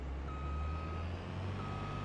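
A farm vehicle backing up in Farming Simulator sends out two steady reversing beeps, fairly far off, over a constant low engine hum, with no talking.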